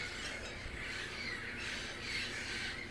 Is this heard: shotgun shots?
no